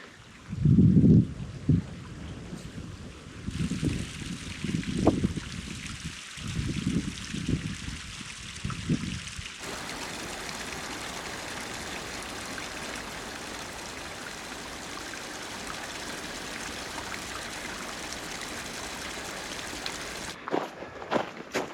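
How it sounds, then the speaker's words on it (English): A small mountain stream trickles in the Chiricahua Wilderness, heard as a steady wash of water noise that carries on alone after some brief footstep-like rustling at the start. "Oh, it's an adorable little stream."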